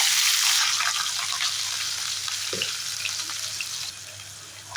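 Shallots, fennel and curry leaves crackle in hot oil, opening with a bright, busy sizzle that eases into a softer, steady frying hiss, with one brief low knock partway through; no voices.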